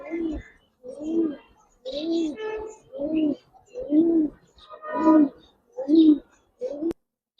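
Silver-coloured army pigeons coo close by in a regular run of about eight rounded, throaty calls, each followed by a short pause.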